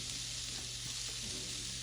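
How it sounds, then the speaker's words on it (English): Seasoned steak bits hit a hot grill for homemade Philly cheesesteaks, producing a dense, constant hiss of frying fat that stays loud and even from start to finish, close up, with no one talking. "we're gonna introduce the steak bits onto the grill"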